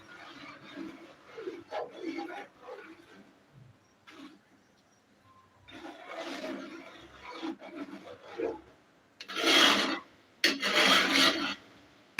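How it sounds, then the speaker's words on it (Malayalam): A spoon scrapes and rubs through semiya payasam cooking with ghee in a pan, giving intermittent raspy strokes that come louder near the end, with occasional quiet speech between. "ഇപ്പോൾ ഇളക്കി വന്നിരിക്കുകയാണ് നന്നായിട്ട് ഇളക്കി നോക്കാം"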